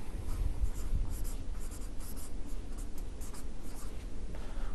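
Marker or chalk scratches steadily across a classroom board in a run of quick strokes and taps, close and fairly loud, with no speech.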